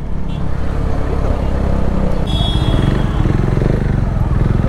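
Dense road traffic of motorcycles and cars rumbles up close with continuous engine noise and revving, heard from amid the flow, steady and loud throughout.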